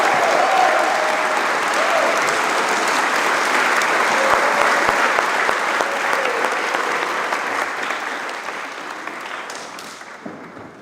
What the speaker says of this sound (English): May I please have a round of applause for the DV Friends